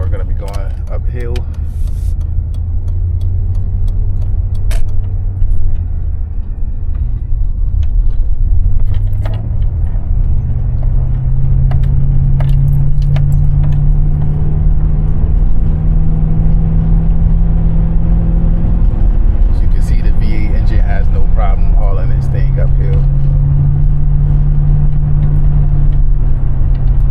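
A 1996 Chevy StarCraft van with a V8 engine climbs uphill, its steady low engine drone and road rumble continuous and loud, with occasional rattles and jingling inside the cabin.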